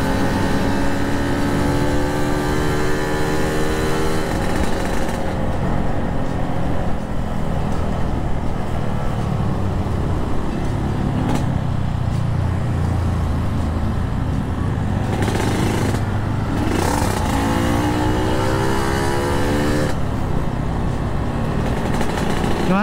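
Yamaha RX King two-stroke motorcycle engine while riding, a steady loud drone with rising and falling revs and wind rush throughout, running alone with no talk.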